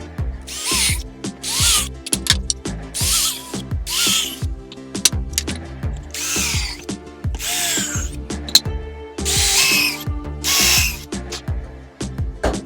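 Power drill boring a series of pilot holes into brittle thermally modified poplar for a birdhouse, with repeated short whirring bursts and brief pauses between holes, close and loud.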